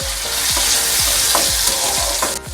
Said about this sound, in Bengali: সামান্য পরিমাণ নুন দেব, যাতে টমেটো পেঁয়াজটা একটু ভালোভাবে নরম হয়ে যায়। এবার ভালোভাবে ভেজে নেব।